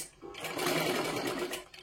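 A sewing machine stitches a princess-cut blouse, one short burst of rapid, even needle chatter starting and stopping, fairly quiet and alone.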